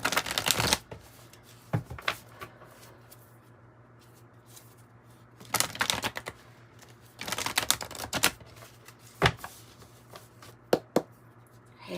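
A Krans Wild Unknown alchemy tarot deck is shuffled close up in several quick bursts of riffling card flutter, separated by quiet pauses.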